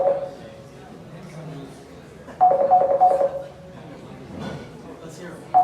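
A phone rings out during a conference debrief with short repeated electronic tones in bursts over a murmuring room, while people talk and laugh nearby.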